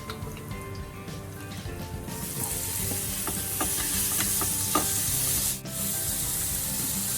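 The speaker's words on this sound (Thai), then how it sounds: "ก็จะใส่กระเทียมไปก่อนนะคะ แล้วก็เดี๋ยวจะ ผัด เนื้อสัตว์ก่อนนะคะ" Garlic and meat stir-fried in a pan for yakisoba, with a continuous sizzle and the scrape of a spatula stirring, close and steady, with a brief louder scrape near the end.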